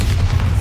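A Bombarda blast spell from Hogwarts Legacy, a deep sustained boom rumbling low and steady for under a second, loud and close with no talk.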